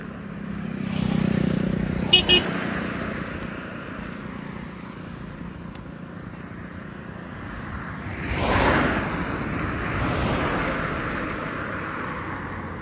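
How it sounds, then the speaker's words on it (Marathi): A milk tanker truck passes on a road at night. It swells from a distance to a broad whoosh and then fades, beside another vehicle passing earlier, with faint talk underneath. "दुधाच टँकर आहे बरं अजिबात थांबत नाही"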